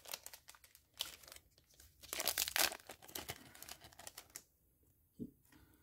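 Crinkly plastic wrappers from anime trading card packs are crumpled and scrunched up close, a dense rustling that peaks midway and then falls to a quiet tail with one soft knock.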